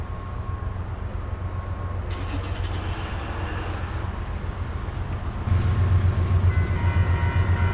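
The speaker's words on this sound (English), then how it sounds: "First up was an empty grain train returning to the grain elevators of the Midwest." An empty Union Pacific grain freight train rolls through Colfax on Donner Pass in winter, a loud continuous rumble of wheels and cars with faint metallic squeal that swells heavier and closer in the last couple of seconds.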